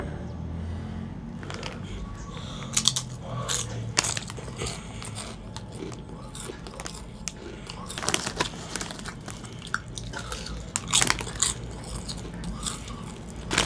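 Close, crisp bites and crunching of KFC Zinger secret recipe flavored potato chips, with crinkles from the snack bag, heard under and between bits of talk.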